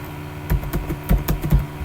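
Someone types a new record on a computer keyboard for an Excel spreadsheet, making a short burst of quick, close key clicks in an uneven rhythm with no talking.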